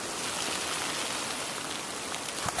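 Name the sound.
rain falling in a pine forest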